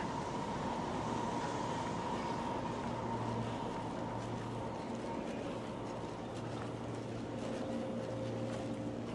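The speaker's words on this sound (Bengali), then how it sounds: "তিনটা লাইনে তিনটা ট্রেন একসাথে দাঁড়িয়ে আছে" A train sits at a railway station in Japan, a steady low engine hum and drone that stays loud and even throughout, with faint tonal whines layered on top.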